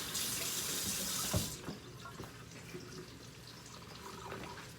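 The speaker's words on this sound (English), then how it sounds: "I'm just gonna wash this off real quick." A kitchen tap runs steadily as an onion is rinsed underneath. The stream is loud and continuous for about a second and a half, then the flow cuts back, leaving quieter splashes and handling clatter.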